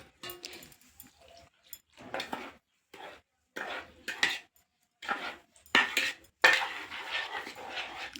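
A spoon stirs sugar powder and a cup of milk in a bowl, producing repeated scraping, clinking bursts with short pauses, close and fairly quiet.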